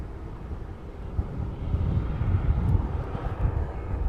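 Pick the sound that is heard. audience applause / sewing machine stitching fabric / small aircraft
small aircraft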